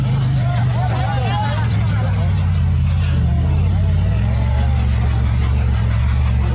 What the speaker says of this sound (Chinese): 他在享受发动机的轰鸣声啊